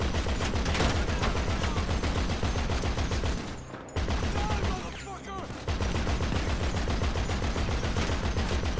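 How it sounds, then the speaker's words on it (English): Dense automatic gunfire rattles through a firefight in GTA 5 Online, loud and sustained bursts with two short lulls, while a voice briefly talks over it. "I'm getting shot"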